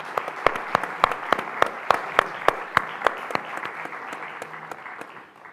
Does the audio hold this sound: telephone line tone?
no